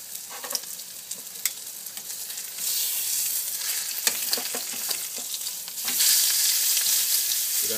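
Steady sizzling of a chicken breast searing in a hot pan, with crackles and a few sharp pops, growing louder and brighter partway through after it is flipped.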